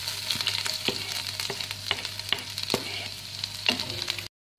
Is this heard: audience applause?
no